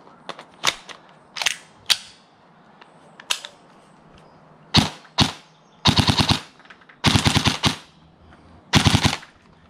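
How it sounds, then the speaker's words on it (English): A G&G electric airsoft rifle upgraded by Umbrella Armory fires close by: several single sharp shots, then three short full-auto bursts of rapid mechanical clicks, with quiet pauses between them. "Last one of the electric guns. We have this G&G upgraded by Umbrella Armory 2."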